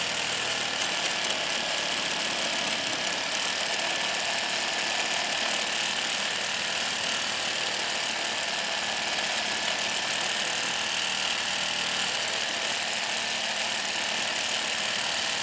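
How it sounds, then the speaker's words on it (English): RIDGID Octane Brushless MegaMax reciprocating saw cutting metal, a continuous loud buzzing drone held steady while heavy downward pressure is applied. "I am putting my full body weight, or as much as I can, down on this saw"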